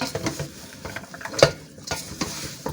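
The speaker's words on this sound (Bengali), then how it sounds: "মশলা কষার সঙ্গে কচি ডাটা মিক্সড করে নিচ্ছি" Tender garden vegetable stalks get stirred into sizzling fried masala for a kalbaush fish curry, a spatula knocking and scraping the pan in quick irregular strokes over a soft frying hiss, close by with no voices.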